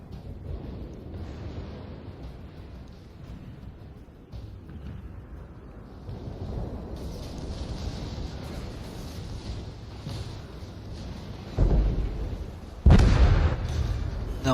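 Naval video game battle as an enemy battleship is destroyed, a low continuous rumble of distant gunfire swelling into two heavy explosions near the end.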